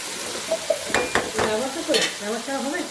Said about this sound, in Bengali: তো তখন আমি এদিকে চিংড়ি মাছটা একটু ভেজে নিই লাল করে।